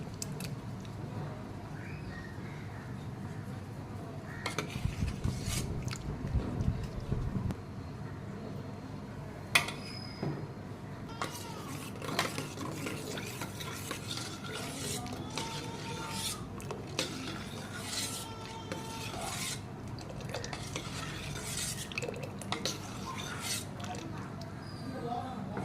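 Melting soap base is stirred in a pot on heat, producing soft scraping and rubbing strokes with occasional utensil clinks against the metal, fairly quiet with intermittent talk.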